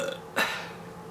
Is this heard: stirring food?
no